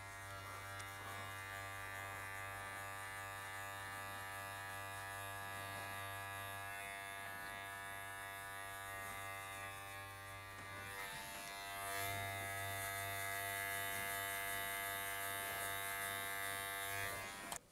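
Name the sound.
hair clippers buzzing while cutting a fade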